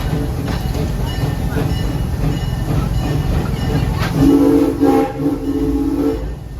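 Serengeti Express ride train at Busch Gardens Tampa rolling along with steady rumbling and clatter on the track, then a loud horn blast sounding for about two seconds near the end.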